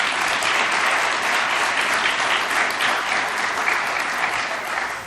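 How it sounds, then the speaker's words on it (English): A business conference audience gives sustained, even applause that fills the room for several seconds, many hands clapping together at a steady level before it tapers slightly at the end. "I think that deserves a round of applause."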